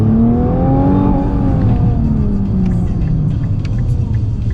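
Nissan GT-R Nismo engine under hard acceleration, a deep loud rumbling drone heard from inside the cabin, its pitch climbing and then easing as the car pulls away.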